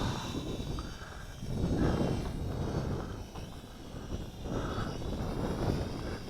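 A Syma X5SC-1 quadcopter drone flies outdoors into the wind at full pitch, its buzzing rotors rising and falling over steady wind noise. The sound is moderately loud and continuous.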